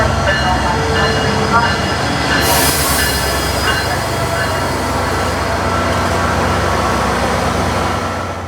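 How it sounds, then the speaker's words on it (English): A SunRail commuter train rolls into Lynx Central station, loud and close, with a steady rumble, squealing wheels and a brief hiss of air brakes. "Here is our Sunrail train arriving into Lynx Central."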